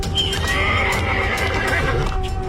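A horse lets out a loud, sustained whinny close by, its quavering call running almost the whole stretch over faint hoof clops, with no voices.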